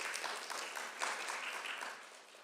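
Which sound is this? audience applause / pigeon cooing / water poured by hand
audience applause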